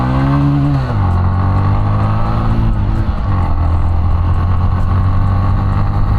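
A Bajaj Platina 110 motorcycle with a 115 cc engine accelerates hard along a main road, its loud, close engine note rising through the gears with steady droning harmonics, with no talking.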